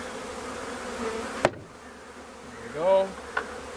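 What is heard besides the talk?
honey bees buzzing around a package cage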